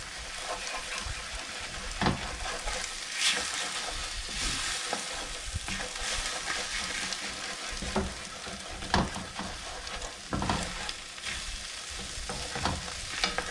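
Egg being stirred hard in a hot frying pan for fried rice, a steady broadband sizzle broken by sharp scrapes and clacks of the utensil against the pan, close and fairly loud with no talking.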